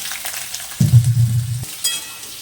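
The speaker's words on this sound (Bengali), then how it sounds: "এর মধ্যে আলুটা দিয়ে দিচ্ছি মোচার আলুটা ভেজে নিচ্ছি" Potatoes for a banana-flower dish drop into hot oil with cumin seeds and bay leaf, a loud close burst of low rumbling and spattering for about a second amid a light background sizzle.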